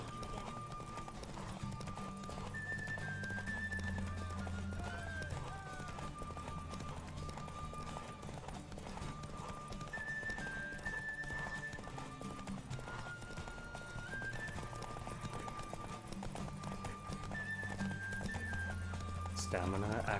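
Geralt's horse Roach gallops in The Witcher 3, steady clip-clopping hoofbeats with a whinny, set under game music and a talking voice.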